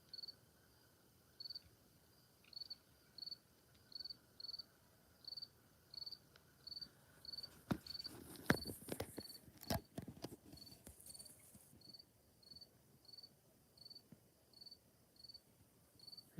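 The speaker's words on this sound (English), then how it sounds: "Is that what's making the continuous cricket chorus?" Crickets chirp at night outdoors in New Brunswick, Canada: a steady high-pitched ground cricket chorus under evenly spaced pulsing bursts, briefly broken midway by a rustling scuffle and clatter nearby.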